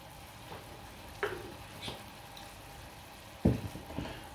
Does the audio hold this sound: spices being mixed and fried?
yes